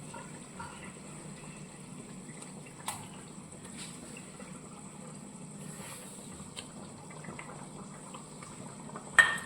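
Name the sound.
egg curry boiling in a pot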